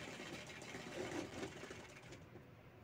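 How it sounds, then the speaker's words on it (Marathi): A sewing machine runs steadily while stitching along the side of a cloth bag made from a circle of fabric, a close, continuous whirring motor with a light rhythmic needle clatter. "अगदी साईडनं शिलाई घ्यायची आहे दाबटीप"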